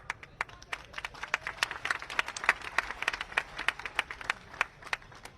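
Scattered, distinct handclaps from a crowd at a political rally, fairly faint and irregular, with individual claps standing out rather than a full roar.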